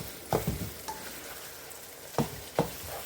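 Sausage sizzles in a pan under a steady low frying hiss while a utensil chops and scrapes it into small pieces in a few sharp knocks, close by.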